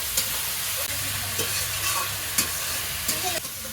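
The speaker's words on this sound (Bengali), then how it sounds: "আলুগুলো আর একটু ভালো করে নেড়ে চেড়ে" Potatoes crackle and sizzle in hot oil as a spoon stirs and scrapes the pan with occasional clanks, close up and constant.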